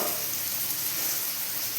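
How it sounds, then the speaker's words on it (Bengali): Onions fry in a pan with a steady, dense, close sizzle that holds at an even level throughout, with no voices. "পেঁয়াজটা একটু লাল হবে লাল করে ভাজব"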